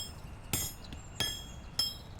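Metal ore being hammered out in a video game: three sharp, ringing metallic clinks spaced evenly about two-thirds of a second apart, clear and alone.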